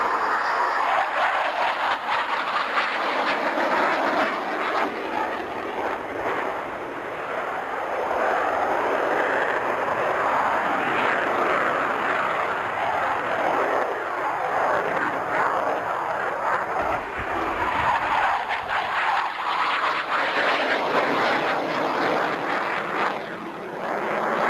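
A MiG-21 fishbed jet roars steadily overhead at the Fairford airshow, a broad, loud rushing engine noise that swells and fades slightly over about twenty-five seconds with no voices.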